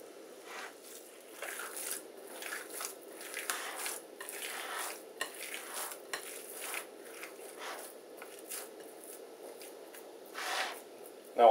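Hands mix a raw meatloaf mixture, giving soft wet squishing and squelching that comes in irregular, close, quiet bursts throughout, with no talk.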